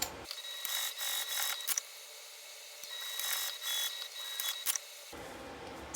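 A sewing machine top stitches fabric for a curvy case in steady whirring runs, stopping and restarting a few times, close but fairly quiet.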